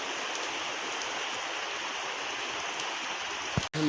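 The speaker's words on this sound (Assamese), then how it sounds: "ৰাতিপুৱাৰ পৰা নেৰা নেপেৰা বৰষুণৰ ফলত পুৰা পানী হৈ গৈছে" Heavy, unbroken rain falls on waterlogged ground where floodwater has covered the yards, a dense steady wash of water that fills the whole clip and briefly breaks off near the end.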